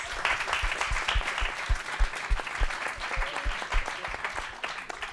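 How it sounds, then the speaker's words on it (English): An audience applauds for several seconds, a thick patter of many hands with a few heavier rhythmic claps standing out, fairly close and even in loudness. "And a big applause for our fantastic panelists, please."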